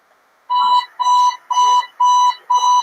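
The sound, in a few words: alarm clock ringing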